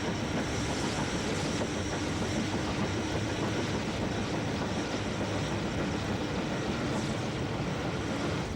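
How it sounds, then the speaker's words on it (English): A Maunsell N-class mogul steam locomotive, a type introduced on the South Eastern and Chatham Railway in 1917, runs through East Croydon station on vintage film, making a steady, loud rumbling rail roar with faint clattering throughout. "Moving on to East Croydon, one of Maunsell's N-class moguls, introduced on the Southeastern Chatham in 1917, passes through the station."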